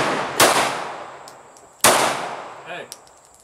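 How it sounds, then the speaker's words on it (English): Two sharp pistol shots from a Glock 43 crack out close by at an outdoor range, each with a quick echoing tail, followed by a faint metallic clink. "got Chain shooting the Glock 43."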